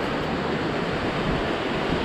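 A river in Gunma prefecture near the Minakami roadside station rushes steadily as broad, dense water noise, loud and continuous with no voices.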